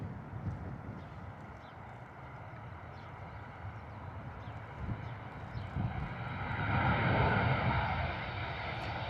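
A Ryanair airliner lands at Bristol Airport, its engine roar rumbling steadily at a distance and swelling louder toward the end, with no talk over it.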